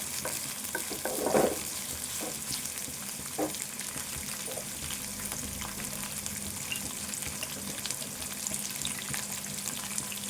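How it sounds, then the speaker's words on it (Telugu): Green chillies fry in oil in a pan for a chicken fry, with a continuous sizzle and crackle of moderate loudness. A few brief stirring scrapes and clinks sound near the start, and no one speaks. "ఒక 3 పచ్చిమిర్చి, ఇవన్నీ కూడా వేపుకోవాలి"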